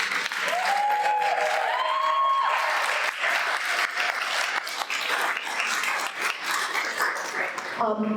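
Sustained applause from a school audience at a student storytelling event, loud and continuous for several seconds, with a few voices and brief tonal sounds at the start and a sharp cutoff near the end.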